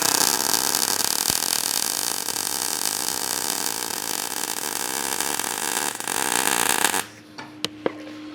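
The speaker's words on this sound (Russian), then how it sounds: "Этот я заварю, индукцию вообще уберу на 0" Steady, loud MIG welding on a steel profile with a budget garage machine, inductance set to zero: a continuous dense crackling hiss for about seven seconds that stops abruptly, followed by a few faint clicks.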